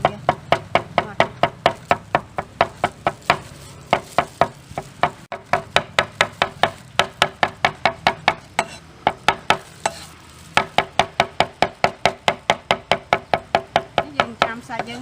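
Raw chicken meat being minced finely with a cleaver on a board, a long run of loud, evenly spaced chopping knocks close up with only brief pauses.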